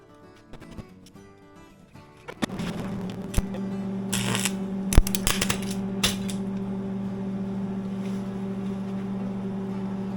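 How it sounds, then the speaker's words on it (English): A quick weld on a part for the fuel regulator of a 1989 Ford F150, made near a magnet: a steady, close, buzzing hum starts after a quiet opening, with sharp crackling bursts over it. "it's going to be a pretty quick little weld"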